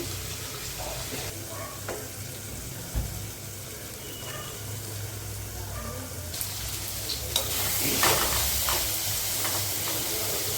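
Onion and tomato cooking in a pan with a steady close sizzle and scattered stirring knocks; the frying swells louder toward the end, with a brief watery hiss mixed in.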